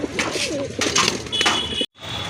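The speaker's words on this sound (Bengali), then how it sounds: "একজোড়া গড়রা কবুতর" Gorra and Giribaz pigeons cooing at a pigeon sale: soft, low, wavering coos repeat close by through most of the stretch, then cut off briefly before a faint continuing hum.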